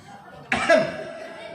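A voice imitates a husband clearing his throat, one short harsh hem-like burst of sound rising out of quiet room tone.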